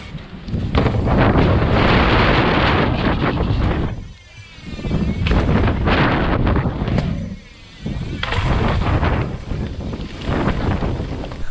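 Strong wind buffets a helmet-mounted action camera's microphone at a mountain bike session, loud roaring gusts that rise and briefly drop twice before surging back.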